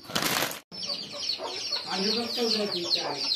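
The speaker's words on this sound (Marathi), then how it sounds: "हा जो कोंबडा दिसतोय ना तुम्हाला, तो आपल्या इकडचा राजापकरांचा कोंबडा आहे" A village rooster clucks in a yard: a brief burst of flapping or rustle, then a run of close, throaty clucks and gurgling calls over a quiet outdoor background.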